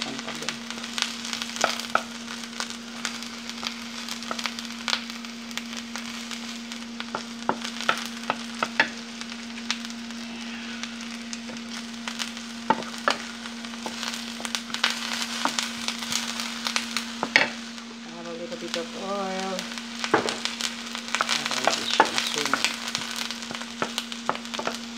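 Onion and garlic sizzle steadily in oil in a pan while being stirred for Filipino adobo, with frequent scraping clicks of a utensil and a constant low hum underneath, and no voices.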